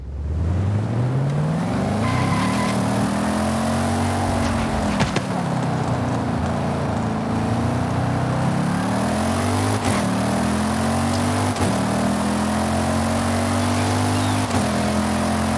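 A stock, untuned rear-wheel-drive Lexus LC 500 in Forza Horizon 5 drives on a road, its engine droning steadily and rising and falling through revs and gear changes, loud and continuous.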